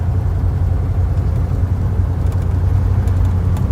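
A 1956 Ford Thunderbird convertible with a 312ci V8 runs steadily and loudly, a deep continuous engine drone with little variation and no clear rev peaks, heard alone without voices.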